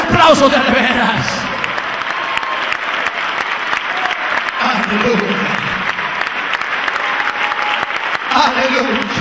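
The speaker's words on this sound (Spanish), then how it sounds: "Oh, dale un aplauso de veras." Loud, continuous applause fills a church during a Spanish-language evangelical sermon, the congregation clapping vigorously throughout while voices call out and shout over the clapping.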